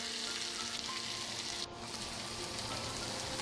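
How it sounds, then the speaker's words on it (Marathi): Potato slices for French fries frying in oil over a low flame, a dense, steady sizzle and crackle heard close up, with a brief dip partway through and no voices. "सुरुवातीला अगदी लो फ्लेमवरतीच आपल्याला हे तळून घ्यायचे आहे।"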